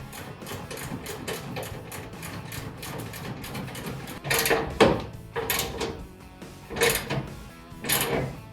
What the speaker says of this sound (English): So go ahead, snug down all 6 bolts for this here bumper.